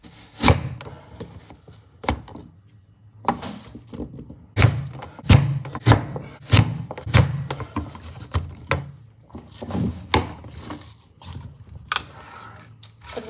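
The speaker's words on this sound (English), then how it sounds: "I'm going to go ahead and core it, and then I'm going to cut each of these slices of apple in half." Apple being cored and sliced for a Thanksgiving apple pie, a series of sharp knife and corer thunks against a wooden board, irregular and fairly close, with no talking.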